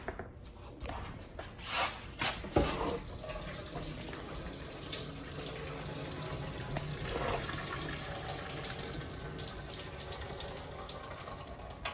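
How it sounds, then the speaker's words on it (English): Tap water runs steadily into a sink, rinsing a big unlined can's worth of canned green beans, with a few clatters near the start and a continuous moderate splash throughout. "so I am rinsing them. Helps get all the can taste out of it."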